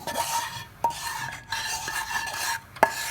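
A spoon scrapes and stirs gravy sauce around a pan, with a few sharp clinks against the metal between steady swishing strokes.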